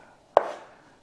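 A single close knife chop through an onion on a board, one sharp crisp stroke with a short decay.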